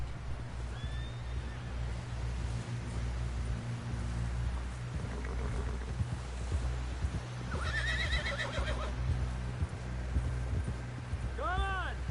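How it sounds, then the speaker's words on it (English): A horse in Red Dead Redemption 2 neighs and whinnies repeatedly over steady hoofbeats, with rain and game voices talking underneath throughout. "ちょっと私の馬だけ暴れてる。"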